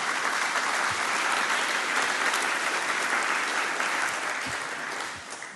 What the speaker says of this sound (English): Give these people a clap.